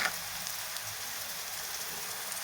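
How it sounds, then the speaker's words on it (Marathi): Steady, even sizzling of chopped onion frying in a pan with salt, a continuous hiss close by with no talking. "आणि कांदा छान परतून घ्यायचा"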